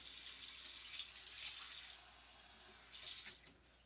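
Water runs from a kitchen tap while gravy for a turkey pot pie is being made, a faint, hissing stream that swells and eases in a few short surges.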